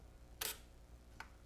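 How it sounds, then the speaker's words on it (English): A Samoca 35 Super camera's shutter fired at 1/10 second, heard as a bright mechanical snap followed about eight-tenths of a second later by a fainter closing click, both short and quiet against a low room hum. "I don't know if you'll be able to hear the shutter"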